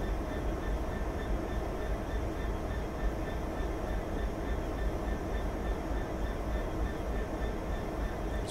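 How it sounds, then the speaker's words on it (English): A diesel locomotive idles in Train Sim 2019 on the Trent Valley line, a steady low rumbling drone that stays constant and close throughout without any talking. "Still can't beat the sound of a diesel though"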